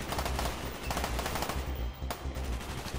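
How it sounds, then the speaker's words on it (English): Rapid automatic gunfire in a Vietnam war video game mission on Xbox Series X, loud repeated bursts of shots close by in an intense combat mix. "Mason, fire when ready."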